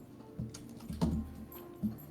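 Sparse keyboard typing, a few isolated key taps spread out with pauses between them, fairly faint against a low steady room hum.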